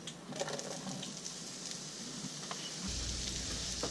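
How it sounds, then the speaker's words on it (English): Chopped onion and celery sauté in hot melted butter in a pot for seafood chowder, making a low, continuous sizzle with faint stirring that swells slightly toward the end, no talk. "then we'll get our vegetables in there to saute"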